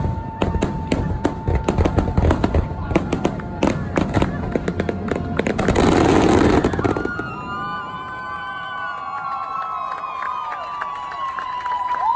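Rapid crackling fireworks at EPCOT, Walt Disney World, pop and burst continuously, then swell into a dense roar before fading to whistling trails and a distant crowd murmur.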